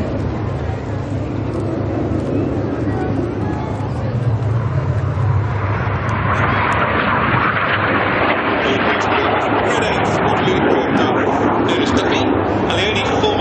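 Red Arrows jet aircraft at the Biggin Hill air display performing a formation break, a loud continuous roar that swells and brightens midway as the jets pass close, with a commentator talking over it.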